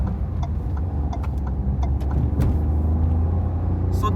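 A Maruti Suzuki Swift with a 1.2 litre three-cylinder engine pulls away, its low engine rumble and road noise steady and close throughout, with a few faint clicks on top.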